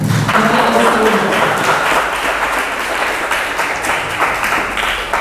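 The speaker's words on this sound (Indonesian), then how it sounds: "Berikan tepuk tangan dulu untuk" Audience at an Indonesian literary talk on award-winning Kompas short stories breaks into loud, dense applause that holds steady for several seconds before easing slightly, many hands clapping together with no voices over it.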